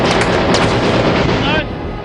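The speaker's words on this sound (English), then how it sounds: "Gunfire and rocket-propelled grenades set the outpost on fire." Heavy gunfire and rocket-propelled grenade explosions during an attack that sets a wartime outpost on fire, a dense, loud, continuous roar of blasts and shots with no pause.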